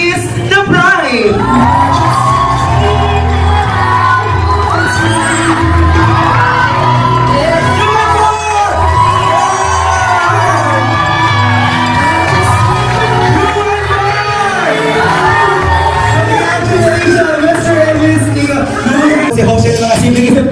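Wedding guests cheer, whoop and shout after the couple's kiss at a reception, a loud, continuous crowd roar lasting about twenty seconds with sustained musical tones underneath.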